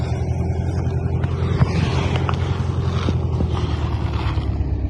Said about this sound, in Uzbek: Traktor bilan suvni tortyapti.